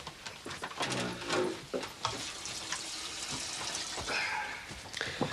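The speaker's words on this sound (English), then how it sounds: "We top it up with water and leave it to cook slowly for an hour or 2." Water running steadily into a cooking pot, a continuous close splashing pour with a brighter gurgle near the end.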